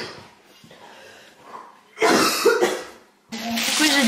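Indoor coughing at home, a few soft, muffled coughs early on, then two loud harsh bursts of coughing close to the microphone, a short pause, and another heavy coughing fit at the end.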